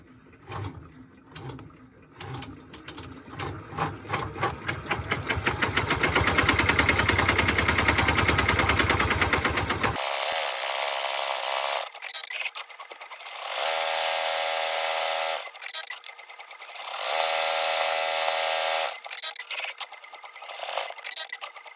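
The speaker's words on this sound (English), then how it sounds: "I'm going to pop it into the embroidery machine and" An embroidery machine stitches a turtle face onto felt backed with stabilizer, a rapid mechanical buzzing and clatter that runs steadily, then shifts to a higher whirring pattern that starts and stops in bursts.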